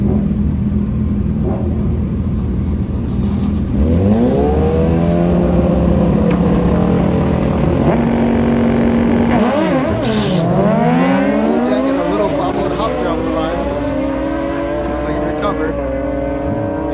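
Small motorcycles launching side by side in a drag race at Maui Raceway Park, engines droning at idle, then rising sharply through gear changes as they pull away, with an announcer talking over the roar.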